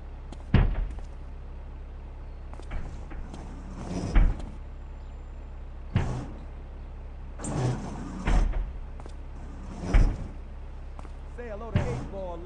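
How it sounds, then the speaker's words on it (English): Service door in the GTA 3 video game, heard as a series of sharp mechanical clunks and slides spaced a couple of seconds apart over a steady low hum, with faint game voices between them. "Let's go around the back and use the service door."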